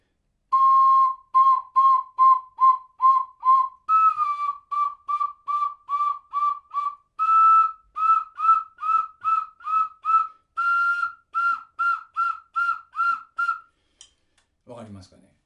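Ocarina played staccato in a lesson on staccato and vibrato, a run of short, separate high whistled notes in rapid groups, stepping upward in pitch, clear and close with brief gaps between each note.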